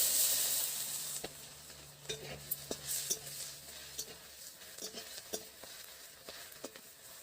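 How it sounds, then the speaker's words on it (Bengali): Sugar, bay leaf and chopped onion hit hot oil in a pan with a loud opening hiss that settles into a quieter crackling sizzle, broken by scattered spattering pops and stirring taps. "চিনি তেলের উপর দিয়ে দিচ্ছি, তেজপাতা দিয়ে দিচ্ছি, কুচিয়ে রাখা পেঁয়াজ"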